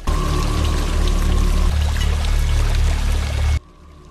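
Running water from A Quiet Place rushes and pours loudly in a steady wash, then cuts off abruptly, leaving near silence.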